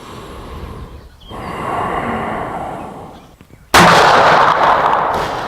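A Smith & Wesson Model 629 revolver fires a single loud, close shot that cuts in sharply after a stretch of quieter breathing and rustling, with no talk.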